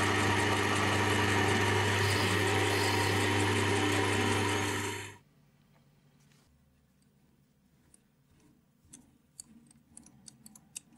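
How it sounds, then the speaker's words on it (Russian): A brass part being drilled and tapped with an M4 thread on a lathe, a loud steady machining whine for about five seconds that cuts off abruptly, leaving faint ticks and small clatters. "Сразу же сверлю и нарезаю резьбу М4."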